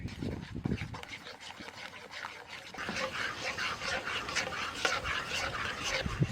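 A pot of mango milk pudding tinted orange with a little food colouring is stirred steadily over the heat, a spoon scraping and swishing in a close, continuous rhythm.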